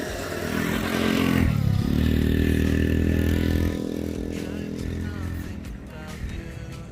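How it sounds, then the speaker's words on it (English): A go-kart engine revs hard while the kart sits stuck in mud, a loud steady motor drone with clattering and scraping, the pitch dipping then holding before easing off; voices are faintly mixed in. "I want to get this go-kart stuck out from being stuck in the mud"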